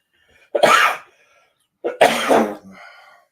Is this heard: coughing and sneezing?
yes